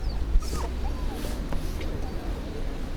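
A dog whimpers and yips in short, thin cries during an outdoor walk near a lake with swans, set against faint background murmur and distant traffic.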